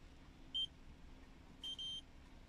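An RFID reader sounds short electronic beeps as it verifies a valid ID card for a laser alarm: one quick beep, then a longer double beep, faint over a quiet background hum.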